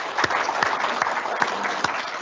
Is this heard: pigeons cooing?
no